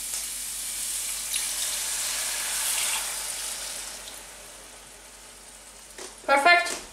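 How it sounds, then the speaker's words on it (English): Vegetable broth poured into a pot for a vegan red lentil curry, a steady splashing pour for several seconds that fades out, followed by a short burst of speech near the end. "Vegetable broth in here."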